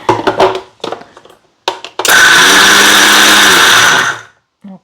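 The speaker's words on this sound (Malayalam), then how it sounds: "ഒന്ന് അരയ്ക്കട്ടെ. ഇനി അപ്പം അരയ്ക്കാം" Someone talks briefly, then a mixer grinder whirs loudly for about two seconds, grinding tindora and leaf chutney with salt. It winds down to silence before a faint clunk.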